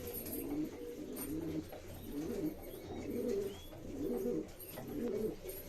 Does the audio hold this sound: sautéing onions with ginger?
no